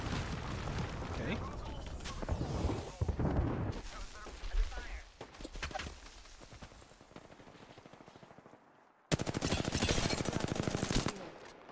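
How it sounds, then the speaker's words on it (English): Gunfire from two enemy squads in the battle royale game Apex Legends: rapid automatic bursts and crackling shots throughout, with a dense, loud volley near the end, amid game sounds and talking. "Two different teams shooting at me."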